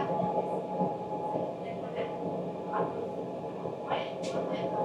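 Rumble of a EuroCity train running from Graz toward Zagreb behind a small locomotive, steady rolling noise from inside the carriage with faint squeaks and clatter, voices talking over it.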